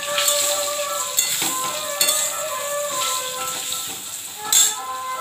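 Potatoes sizzle steadily in hot oil with salt and turmeric, a bright continuous frying hiss with occasional stirring clinks of a pan, close and alone without talk.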